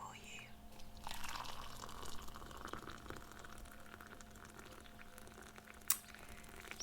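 Tea is poured into a cup in a quiet, close-up ASMR setting, a soft, gentle trickle of liquid, followed by faint handling noise and a small sharp tap.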